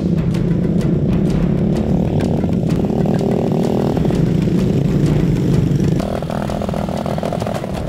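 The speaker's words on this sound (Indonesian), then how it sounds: "Motor yang dipakai sudah dimodifikasi menyesuaikan kondisi jalanan." A modified motorcycle hauls harvested rice grain along a rough rural road in Pinrang, South Sulawesi. Its engine drones loud and steady throughout, with rattling clatter and a slight drop in pitch partway through, and no voices.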